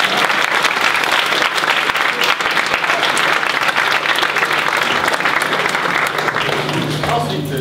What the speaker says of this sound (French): Maintenant vous pouvez applaudir